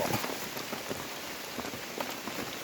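Steady rain pours down outdoors in a forest, a dense continuous hiss of drops striking leaves and the ground, close and even throughout with no voices.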